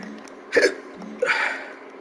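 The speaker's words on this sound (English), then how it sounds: "For one thing, I've got hiccups." A person gives two sharp, separate hiccups about three-quarters of a second apart, close and fairly loud against a quiet background.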